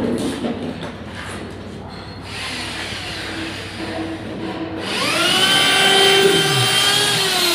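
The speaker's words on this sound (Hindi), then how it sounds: "अब ड्रिल मशीन से सुराख निकाल के आपको फ्लैश टैंक लगा के दिखाते हैं।" Electric drill machine boring holes in a wall to mount a flush tank, a rising whine with harmonics that spins up loud at mid-clip and continues steadily alone.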